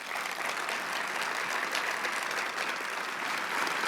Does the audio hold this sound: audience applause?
yes